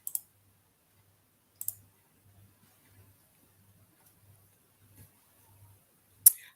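Computer mouse clicking, a few sharp, isolated clicks spaced about a second or more apart against near silence, with faint soft taps in between.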